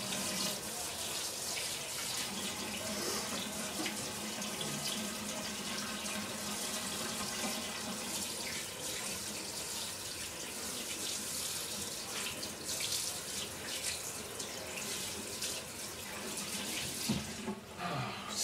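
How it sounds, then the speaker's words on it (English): A tap runs steadily as hands are washed under it in a kitchen sink, a close, continuous broadband hiss of water with slight splashing variations and no talking. "wash my hands"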